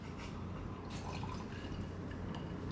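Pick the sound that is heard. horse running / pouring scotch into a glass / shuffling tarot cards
pouring scotch into a glass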